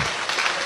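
A brief burst of dense audience applause at a political rally, loud and continuous.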